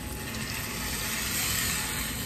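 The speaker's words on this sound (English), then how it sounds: "And then I'll just add a cup of water." A cup of water is poured into a pot of Spanish-style beef stew with garden bell pepper, giving a steady close splashing, trickling wash that swells slightly toward the end and runs without pause.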